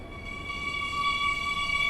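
A train arriving at a platform in the Stepford County Railway video game, a steady rumbling hum with sustained tonal whine, growing slightly louder and continuous throughout.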